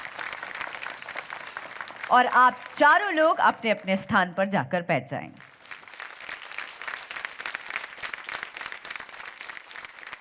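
A studio audience at a folk music competition show breaks into dense, steady applause that runs through the whole stretch, briefly interrupted midway by a host speaking over it.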